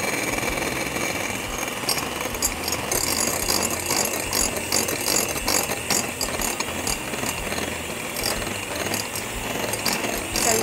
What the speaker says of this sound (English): So you've been whisking for about 3-4 minutes